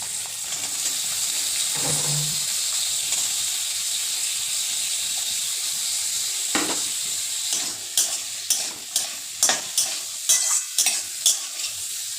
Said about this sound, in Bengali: গাজিগুলো একটু ভাজা ভাজা হবে নরম হবে